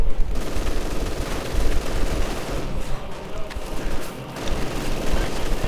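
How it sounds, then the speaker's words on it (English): Heavy machine gun fire in the Company of Heroes 2 video game, a dense, continuous crackle of automatic bursts layered with distant booms, loud and sustained with only a brief dip. "heavy machine gun fire is being leveled against them"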